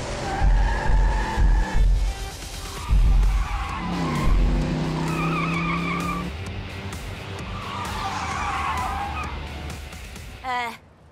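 Race car in the Hot Wheels City video game skidding with tires squealing, a loud rumbling slide with revving engine and a brief screech near the end, mixed with game music and effects.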